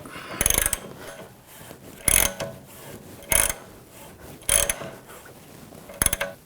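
Ratchet wrench tightening a bolt during a rear wheel bearing replacement on a 2006-2010 BMW 550i, five short bursts of clicking spaced about a second apart, close and fairly quiet.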